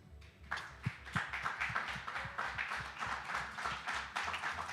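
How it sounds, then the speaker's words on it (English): A standing audience applauds at a beauty pageant press conference, steady rhythmic clapping from a crowd with sharp individual claps close by, continuing throughout. "I would love us to just rise and give her a round of applause."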